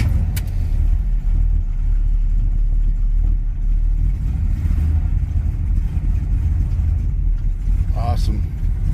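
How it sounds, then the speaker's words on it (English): Chevrolet El Camino engine cranking on a new battery and catching, settling into a steady low rumble close by, with a brief higher whine near the end and voices talking over it. "let me see if it'll turn this motor"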